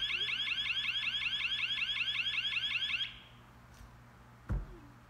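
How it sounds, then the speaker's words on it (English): A Bull Horn ATM alarm sounds a rapid, repeating electronic warble for about three seconds, then stops abruptly, followed by near quiet and a single short thump. "whenever the alarm goes off and you get that signal, you can decide what to do"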